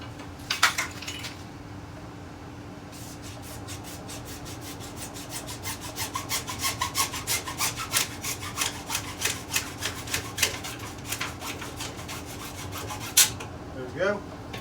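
A handsaw cuts through plastic pipe for a sump pump basin installation, giving a steady run of rasping back-and-forth strokes, close and loud, with no talking over it.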